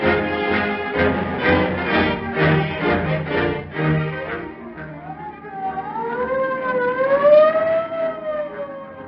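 Police car siren from an old-time radio crime drama, wailing in rising and falling sweeps that grow louder, heard over a busy dramatic orchestral music bed with no talking.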